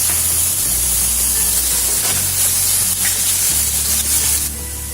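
Chopped onions dropped into hot tempering oil in a pan for shahi lauki with chana dal, a steady loud sizzle and hiss that runs alone throughout, rising briefly as the pieces hit the oil.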